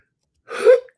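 A single short sneeze, a sharp burst rising to a peak and trailing off within about half a second, close and fairly loud with no other sound around it.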